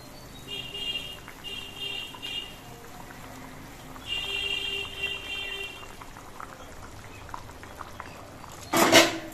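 Fried hilsa pieces go into a simmering eggplant curry, a soft bubbling and sizzle running low throughout, swelling briefly mid-clip and ending in a louder burst of splashing near the close, with no talk.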